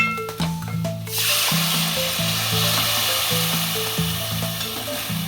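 A sudden loud sizzle erupts as tomato puree hits hot oil with turmeric, then hisses steadily, with gentle background music throughout.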